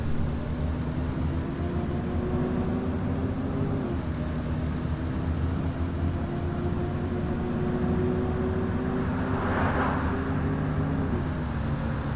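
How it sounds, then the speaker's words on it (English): A steady, low bus engine drone in the OMSI 2 driving game, a Citybus 400R EcoLife, hums throughout with a constant tone, rising slightly in pitch at moments, with a brief whooshing swell near the end. "Hear that engine, yes."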